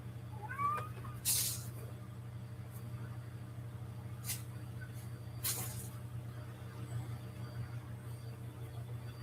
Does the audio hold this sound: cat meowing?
yes